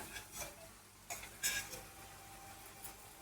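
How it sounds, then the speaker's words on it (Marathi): A spatula scrapes and stirs Malvani masala into onions in a pan for a mixed vegetable dish, giving a few soft, irregular, close scrapes and clinks in a quiet room with no talking. "हे मसाला सगळा कांद्यामध्ये परतून घेऊया"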